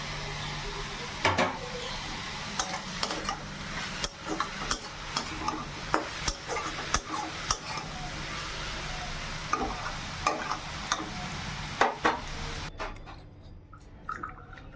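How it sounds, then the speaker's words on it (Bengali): Steady frying sizzle of greens with dried red chillies and black cumin in a pan, with repeated sharp clinks and scrapes of stirring, fairly close, with no talking. "শাক ভাজাটা চাপিয়ে দিলাম শুকনো লঙ্কা আর কালো জিরে ফোড়ন দিয়ে"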